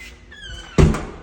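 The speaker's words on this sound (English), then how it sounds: "front door." A single solid thunk of an apartment front door shutting close by, preceded by a faint creak.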